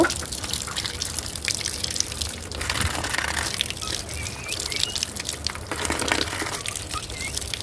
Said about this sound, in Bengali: এখন হচ্ছে কামরাঙ্গাগুলো আমি ফ্রেশ করে ধুয়ে নেব